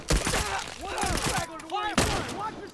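Tactical shotgun gunfire in The Last of Us DLC multiplayer, a few sharp blasts with bursts of surrounding gunfire mixed in, loud and close, under overlapping voices and game chatter.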